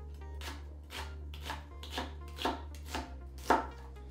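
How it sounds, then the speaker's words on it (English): An onion is sliced with a small knife in about eight even, crisp cuts roughly half a second apart, close and clear in a quiet room with no talking. "I'm using a smaller knife to cut small segments, small slices"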